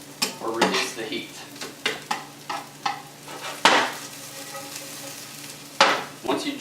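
Garlic and onion sautéing in a hot pan, a steady sizzle broken by repeated scraping stirs and sharp clanks of a utensil against the pan, close and fairly loud, with no talking.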